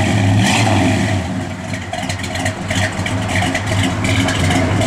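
A 1970 Dodge Coronet R/T engine revs up close and loud, its heavy rumble rising and falling in repeated throttle blips over a few seconds with no voices.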